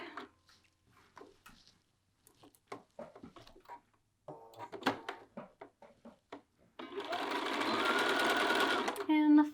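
After scattered clicks and handling noises under a speaking voice, a sewing machine runs a continuous whirring burst for a back tack on a garment seam, close and steady for a few seconds.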